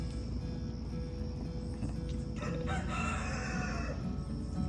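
A rooster crows over steady background noise, the call rising partway through and carrying on to the end.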